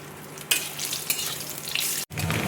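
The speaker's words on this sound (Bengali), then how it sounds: "এবার আমি নারকেলটা দেখো তেলের মধ্যে দিয়ে দিচ্ছি" Grated coconut dropped into hot oil in a wok gives a bright, steady sizzle that swells as it goes in, with a brief cut near the end before the frying resumes.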